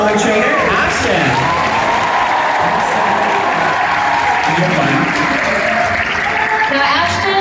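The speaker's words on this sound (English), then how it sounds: "round of applause for our newest dolphin trainer, Ashton." Audience at a Georgia Aquarium dolphin show breaks into a round of applause for a new dolphin trainer, a dense, steady wash of clapping from a large crowd that holds throughout, with a voice speaking over it.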